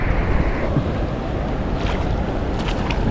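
Steady broadband roar of waterfall water rushing at a historic falls where someone is fishing, loud and continuous with no breaks and no talking.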